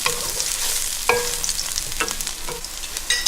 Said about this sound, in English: Now I'm going to add in the rest of my garlic. We're going to cook this for about 1 minute to 2 minutes